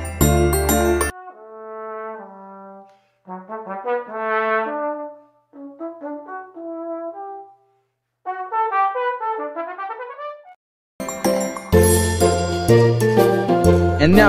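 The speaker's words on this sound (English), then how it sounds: "Trombone is the only instrument with sliding mechanism that shifts pitch in any key." Trombone playing short melodic phrases of sustained, smoothly shifting tones separated by brief pauses, with louder, denser music at the start and end.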